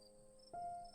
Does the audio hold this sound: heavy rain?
no